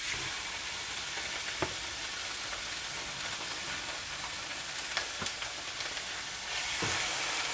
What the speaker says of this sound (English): Now it's time for me to cook the ground beef right here